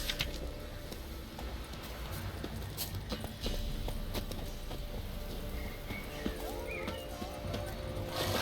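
Hooves of Roach, the horse in The Witcher 3, clatter rhythmically in a quick gallop, close and fairly loud over soft ambient game sound.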